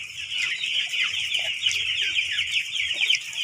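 Chickens in a brooding pen, fitted with a cooling pad near an air conditioner, give soft scattered clucks close by under a steady, loud hiss of fan or air-conditioner noise.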